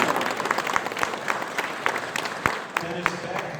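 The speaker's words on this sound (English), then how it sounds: "So give Jake a round of applause." An audience applauds at the unveiling of the 1962 Studebaker Sceptre prototype, a burst of dense, fairly close clapping that runs under a speaker's voice.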